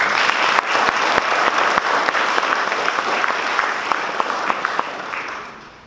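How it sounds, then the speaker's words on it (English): Applause at a community college fire academy graduation, a crowd clapping steadily with distinct sharp individual claps standing out, gradually fading toward the end. "So give them a round of applause again"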